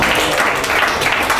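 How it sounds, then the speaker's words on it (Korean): Students applauding in a university business statistics lecture, a short burst of dense, close clapping with no voices over it. "박수 한번 쳐줍시다"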